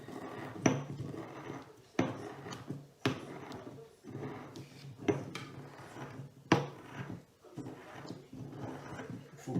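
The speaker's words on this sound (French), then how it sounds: "Faut pas hésiter de bien y aller avec le mortier, de bien appuyer." Eggshell being crushed in a mortar with a pestle, heavy pressing strokes giving a rhythmic series of sharp knocks and scraping grinds, roughly one every second, close and fairly loud with no talking.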